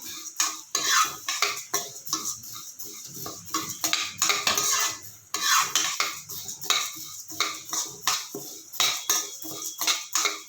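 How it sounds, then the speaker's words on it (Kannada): Chutney powder ingredients are stirred while roasting in a pan over a medium flame, with a utensil repeatedly scraping and clinking against the metal in a steady, busy rhythm and no talk. "ಒಂದೇ ಸಮ ಹುರ್ಕೋಬೇಕು ಈ ಥರ ಮೀಡಿಯಮ್ ಉರಿನೇ ಇಟ್ಕೊಳ್ಳಿ"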